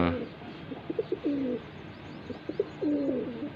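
A red-eyed female pigeon coos in low, rolling phrases, two clear bursts close by over a faint background hum.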